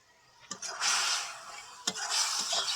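A spoon scraping and stirring a raw mango fish curry with tomato, slit green chillies and spices in a pan, two distinct scrapes each followed by a rushing sizzle, close and without speech.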